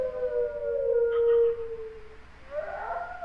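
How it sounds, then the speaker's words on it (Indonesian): A wolf howls in a horror video game: a long, clear, sustained tonal wail that holds, dips and fades, then a second rougher, rising howl near the end, alone and fairly loud. "Binatang. Serigala."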